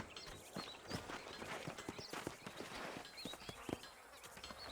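Horse hooves clip-clop at a steady walking pace in the video game Red Dead Redemption, several animals close by, with faint ambient noise and no talking.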